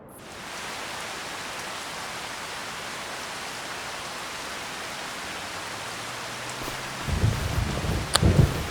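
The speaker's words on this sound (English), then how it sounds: "Okay, so it's raining." Rain and thunder in the farming game Farming Simulator 25: a steady hiss of rainfall holds evenly for most of the stretch, then low rumbling thunder rolls in toward the end, growing louder.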